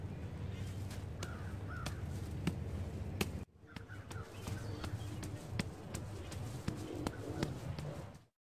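Repeated harsh crow caws ring out at intervals over a rustling outdoor background, fairly close, with a brief gap in the middle.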